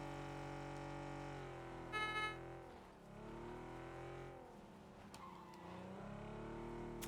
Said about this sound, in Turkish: O araba mı geliyor arkadan?